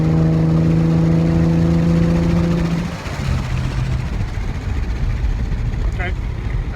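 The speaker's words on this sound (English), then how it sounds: "I wanted that really loud, like the loud exhaust note" A Ford Mustang V6 with a Magnaflow Race Series exhaust idles loudly with a deep exhaust rumble, dropping to a rougher lower drone partway through; no clear rev spikes.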